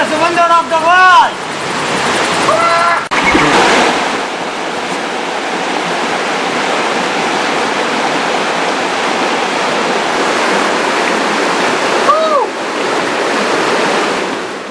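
Broad, steady rush of a river tumbling over stones in a valley near Mandu, Dhar District, loud and continuous throughout, with brief chirps of birds and a short voice near the start.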